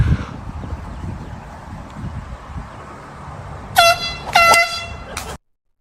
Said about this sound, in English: this is called the golf course air horn